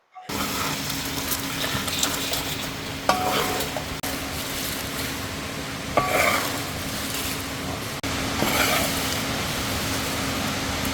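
Garlic frying in oil for a shark pickle gives a steady, close sizzle throughout, with occasional utensil clinks and stirring scrapes, and no voices.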